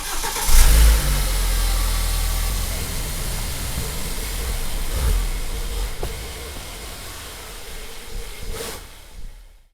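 A BMW N43 engine, just back together after a DIY rebuild for bearing damage, cranks and catches with a loud burst, then revs and settles into a steady running drone, with a couple more blips of throttle up close.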